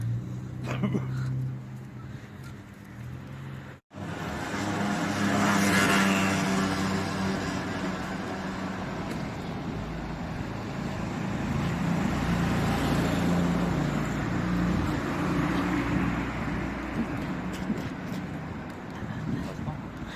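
A car drives along a road with a steady, continuous rumble of engine and road noise that sounds as if heard from inside the vehicle. It runs throughout after a brief drop early on, and a voice speaks at times.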